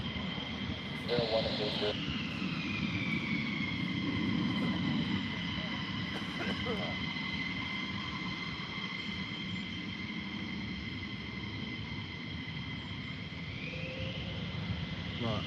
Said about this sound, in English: Well, here we go, another departure.